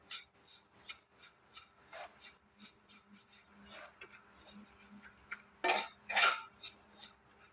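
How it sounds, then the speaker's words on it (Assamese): Laddu ingredients roasting in a pan over a low gas flame, stirred with a utensil: quiet, rhythmic scraping strokes about twice a second, with two louder, harsher scrapes near the end. "গেছৰ ফ্লেমটো আপোনালোকে ল' কৰি ৰখাই এইখিনি ভাজিব।"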